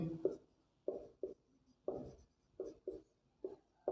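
Pen writing on paper during a Class 10 polynomial math lesson, soft scratchy strokes in short irregular bursts, close and quiet, with no talk.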